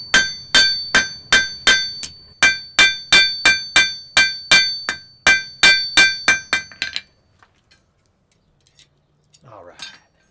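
A blacksmith forges an iron nail with a steady run of about twenty ringing hammer blows on metal, close and loud, in an even rhythm that stops abruptly, leaving near silence with a faint rustle at the end.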